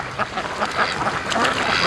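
Muscovy ducks on a lakeside dock give repeated soft, breathy calls at close range, a steady scatter of short bursts over outdoor background noise.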